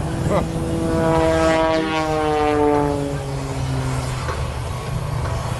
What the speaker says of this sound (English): Into a 4-point crisp and precise hesitation roll, stopping the airplane exactly 90 degrees each time